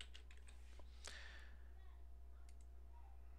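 Quiet tapping of keys on a computer keyboard, a few scattered clicks and short bursts rather than continuous fast typing, faint and close over a steady low electrical hum.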